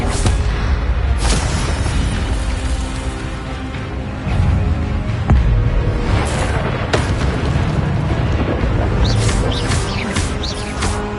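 Fire spells are cast in Hogwarts Legacy, with loud booming bursts and crackling impacts over a dense roar of game combat, several blasts in quick succession.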